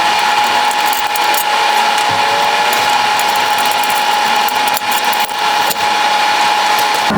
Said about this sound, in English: Alright, so I removed my O2 sensor,